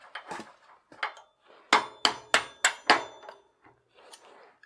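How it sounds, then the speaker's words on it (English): A hammer drives a cotter pin out of a bicycle bottom bracket crank arm: a few lighter taps, then four or five sharp metallic blows in a steady rhythm, followed by softer knocks. "Let me punch out that cotter pin."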